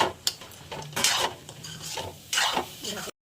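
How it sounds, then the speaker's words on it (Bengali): Chicken and potatoes being stirred in hot oil in a pan for a Bengali-style dish, with several scraping strokes of a utensil against the pan over a soft sizzle. "চিকেনটা আর আলুটা দিয়ে ভালো করে লাড়াচাড়া করে নেবো।"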